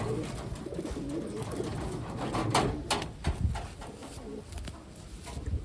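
Pigeons coo steadily and close by, soft throaty calls repeating in overlapping phrases over a low background murmur, with a few brief rustles and knocks from the birds.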